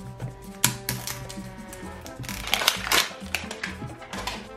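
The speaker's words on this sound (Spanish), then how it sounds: "Vamos a ir a la segunda cremallera" A zipper is pulled open on a LOL Surprise Under Wraps doll package, giving a close, rapid rasping run of tiny clicks in uneven bursts over a few seconds.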